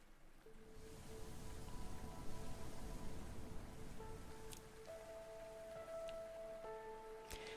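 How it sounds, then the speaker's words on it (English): Steady rain falls in a scene from the video game Arknights, a soft, even wash of drops throughout, with faint sustained musical tones drifting over it. "The rain caresses her palms."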